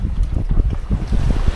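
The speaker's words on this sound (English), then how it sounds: "A bit of a fluky wind." Gusty wind buffeting a sailboat underway on open water, a loud low rumbling roar pulsing in uneven bursts with a wash of waves beneath.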